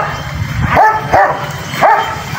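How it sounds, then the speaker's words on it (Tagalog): Small hybrid dogs next door barking, three short sharp barks spaced about half a second apart over a steady background, moderately distant. "Diyan sa kapitbahay namin, ang daming aso."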